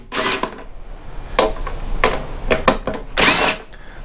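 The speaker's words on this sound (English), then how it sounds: "Taking out the air filter." Removing the air filter from a Craftsman rototiller brings a handful of sharp plastic clicks, snaps and rattling bursts, close and irregular, separated by short quiet gaps, with no talking.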